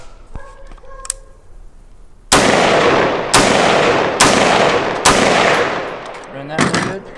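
An AR-15 rifle firing 5.56 military green tip rounds cracks out five sharp, loud shots at uneven intervals, each with a brief ringing decay, after a few light metallic clicks.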